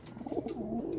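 A pigeon gives a short, soft, close-up coo lasting about a second.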